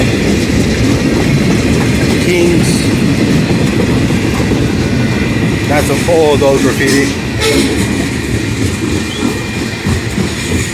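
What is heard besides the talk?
long freight train passing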